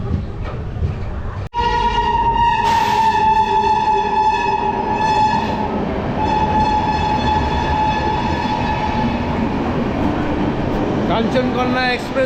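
The Kanchankanya Express rumbles past a station at Dankuni, its loud, drawn-out horn blaring for several seconds over steady wheel and rail noise, with a voice heard briefly.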